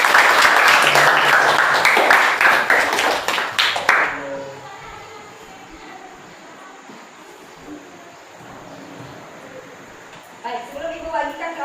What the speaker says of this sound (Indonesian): Silakan berikan tepuk tangan.